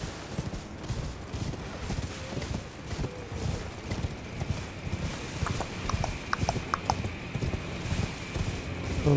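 Hoofbeats drum steadily as a horse is ridden at speed in Elden Ring: Shadow of the Erdtree, a rapid galloping clatter over ambient game sound with faint metallic clinks and no speech.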